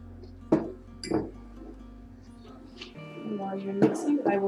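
A spoon clinks against a glass bowl while whole wheat pumpkin bar batter with added oil is stirred, giving a few bright taps with soft scraping between, under people chatting.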